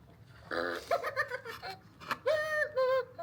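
Several short bursts of high, squeaky electronic giggling from a hide-and-seek toy follow one another, toy-like and close, with brief pauses between them.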